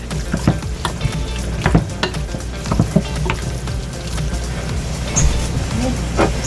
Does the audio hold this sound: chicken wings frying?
yes